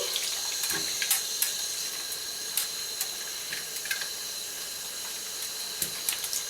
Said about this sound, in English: I'm just gonna turn up the water a little.